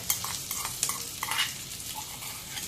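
Boiled, mashed medium potatoes going into hot ghee in a pan, giving a soft, steady sizzle with light stirring scrapes and clinks, fairly quiet and without talk.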